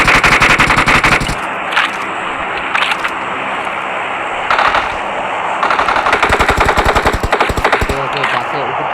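Video game gunfire crackles in rapid automatic bursts during a match, loud and close, with short pauses between volleys.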